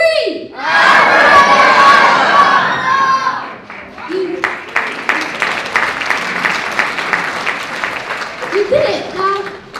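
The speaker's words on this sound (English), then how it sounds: "I want you to shout the loudest you've ever shouted before." Audience of children at a magic gala show shouting as loud as they can, a huge close roar of screams for about three seconds that dissolves into cheering and clapping, with a few voices talking near the end.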